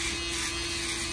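Electric shaver trimming a teen's hair at a barbershop, a steady loud close buzz running throughout with no pauses.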